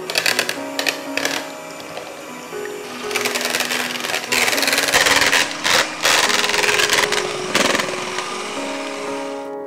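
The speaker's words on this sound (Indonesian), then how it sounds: "Telur akan kita kocok dengan kecepatan sedang atau tinggi juga boleh sampai dengan dia mengental atau mengembang." An electric mixer beats eggs at medium to high speed for an old-fashioned cheese sponge cake made from instant mix, giving a steady whirring drone broken by rattling clatter from the beaters against the bowl, close and fairly loud, with no talk.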